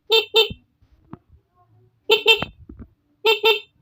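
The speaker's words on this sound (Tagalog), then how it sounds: "Yan, busina na natin." A car's dual contact horn sounds in three loud, close double honks, spread apart, with someone speaking briefly between them.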